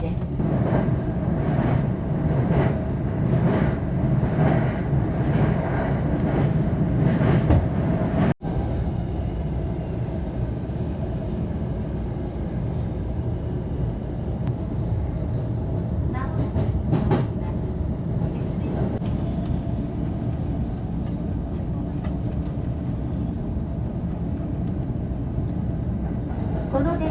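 A Tokaido Line commuter train rumbles steadily, with a loud clatter that drops to a lower, smoother rolling hum after a brief sharp click; faint voices beneath.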